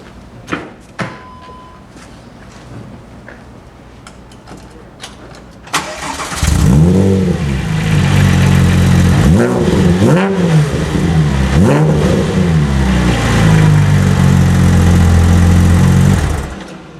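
A 2007 Porsche GT3 with an AWE exhaust starts up after some faint handling clicks, catching loudly and then revving repeatedly in sharp blips over a steady, throaty idle, close and dominant throughout.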